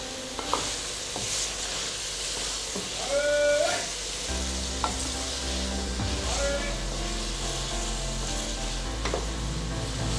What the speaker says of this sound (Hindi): अब इसको अच्छे तरीके से हम मिक्स कर देंगे